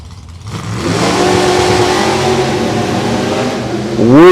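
A Chevy S10 truck with a 406 small-block engine and a Camaro launch side by side at a drag race, their engines roaring loudly and steadily, then surging higher in pitch as they pull away.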